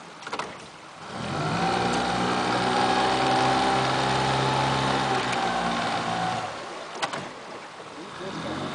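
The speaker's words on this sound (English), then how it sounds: "You get on the other side of that motor, Dan." A boat motor runs at a steady droning pitch, swelling louder for several seconds and then easing off, with a few bumps and knocks at the start and end.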